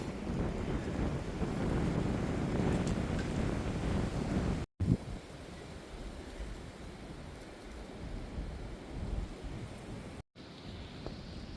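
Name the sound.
wind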